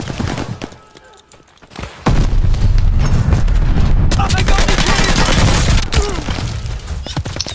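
Dense, loud gunfire in the video game Arm's Race, rapid overlapping shots after a brief lull, with a heavy grenade-like boom folded into the barrage and a voice heard early on.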